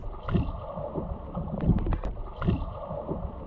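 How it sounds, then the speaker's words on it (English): Rhythmic watery splashes and churning from a swimmer's kicks, one per stroke, recur about once per second, close up, with a steady wash of water between them and no talking. "1 kick per stroke sounds like this."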